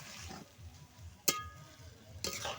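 Marinated fish, served with potatoes, being turned in oil in a pan, a faint low sizzle broken by a few sharp utensil clinks against the pan.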